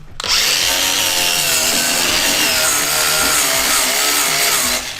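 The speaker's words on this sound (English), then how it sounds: "The wireless handhelds struggle with the wire wheel." Cordless handheld grinder spinning a wire wheel, a steady loud abrasive whir and scrape running continuously for several seconds with a slight labouring tone, alone without talk.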